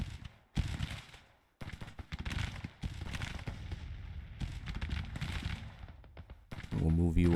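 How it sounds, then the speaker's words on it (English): Skirmishers' musket fire in the Civil War strategy game Grand Tactician: ragged volleys of sharp cracks and booms, some close and loud, others rolling farther off, with a brief voice near the end. "Start firing on that artillery."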